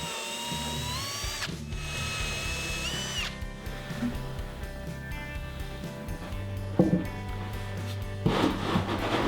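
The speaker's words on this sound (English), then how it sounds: "I pre-drilled holes in the sides of the bookcase to attach the bookcase to the cabinet" A power drill whines in short bursts as it bores pilot holes into the side of a sapele wood bookcase, steady and close, with faint clicks and handling noise between runs.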